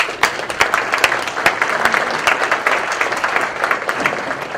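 Audience applause at a mayor's breakfast honoring Boy Scouts, a steady burst of many hands clapping with sharp close claps over a dense crowd wash, lasting throughout.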